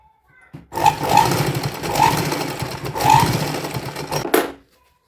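Sewing machine running steadily while stitching elastic into the waistband of a baby girl's dhoti, a close, fairly loud motor whir with a rapid needle chatter lasting about four seconds before stopping.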